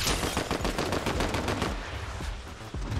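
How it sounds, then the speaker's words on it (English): Rapid bursts of Ranger pistol fire in Fortnite, a dense run of loud, closely spaced shots for about three seconds, ending with one final crack. "Ranger pistol."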